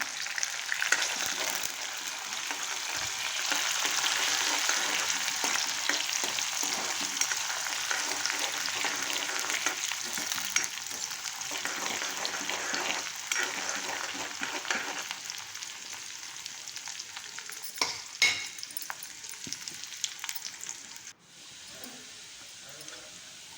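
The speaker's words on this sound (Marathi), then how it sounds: "कांदा चांगला परतल्यावरती कढीपत्ता टाकला" Onion and curry leaves fry in hot oil with a steady, loud sizzle that holds for most of the stretch, broken by a few stirring knocks and scrapes before it drops quieter near the end.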